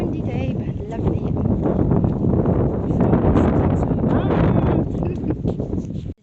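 Steady wind buffets the microphone throughout an outdoor walk, a loud continuous rumble that stays constant until a sudden cutoff at the end.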